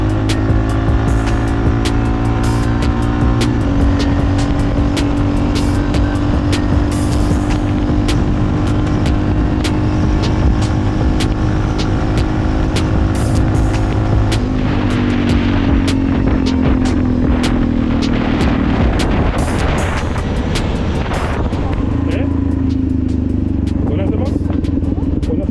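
A Yamaha XT660R motorcycle ridden at speed, its loud engine droning steadily with gear-related pitch shifts and a rush of wind buffeting throughout.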